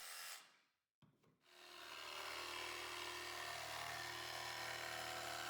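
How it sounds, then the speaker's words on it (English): A Dewalt brushless cordless barrel grip jigsaw cuts through wood with a steady, continuous buzzing rasp after a brief pause and restart, close and sustained. "You can see here the barrel grip saw makes more accurate turns and tighter corners."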